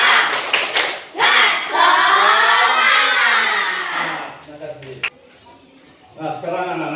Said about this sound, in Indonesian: Sekarang kita tepuk semangat dulu sekali ya